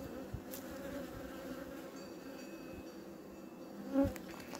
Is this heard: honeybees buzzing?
yes